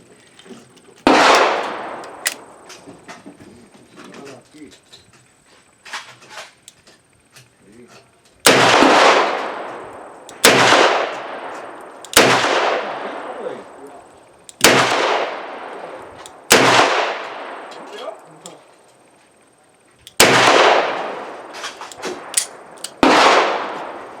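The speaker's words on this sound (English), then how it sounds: "it shoots fine, but out of a revolver you can notice the recoil" Eight or so heavy, sharp shots from a Smith & Wesson Model 610 10mm revolver crack out at an outdoor range, each with a long ringing decay, spaced several seconds apart and loud, with faint metallic clinks between.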